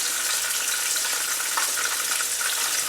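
Chicken fries in very hot oil, putting out a constant, fairly loud crackling sizzle close by that stays steady throughout, with no speech.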